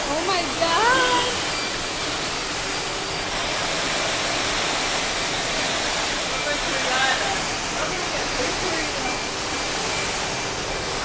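Heavy floodwater pours continuously down escalators in Dubai Mall like a waterfall, a dense roar filling the space while voices speak and exclaim faintly over it.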